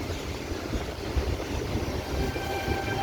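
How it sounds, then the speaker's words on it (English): DSP test train running on the rails at Sydney Central station, a continuous loud rumble with wheel noise and faint squeals, close by and steady throughout, no talking. "It's the DSP test train and it will return back."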